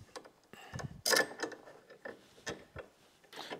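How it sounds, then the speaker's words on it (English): Bolting a Goldstrike adjustable highway peg mount onto a motorcycle frame: a few sparse metallic clicks and ratchet-like ticks of a wrench turning, quiet and close with gaps of near silence between. "So now you just bolt this on."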